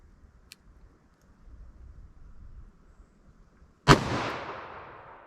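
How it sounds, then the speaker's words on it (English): A single loud, sharp gunshot from a .357 Magnum Smith & Wesson 686 revolver with a 4-inch barrel firing 125-grain Gold Dot ammunition, close up, with a ringing reverberant tail after a quiet lead-in. "357 Magnum through our 4-inch 686, 125 grain gold dot."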